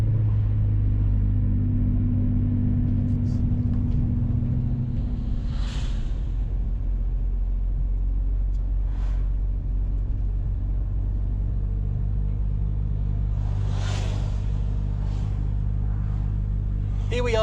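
A historic Ford Capri 2.8 Injection cruises along the A39 in Cornwall, its engine a steady low rumble heard from inside the car, with occasional soft knocks and brief voices.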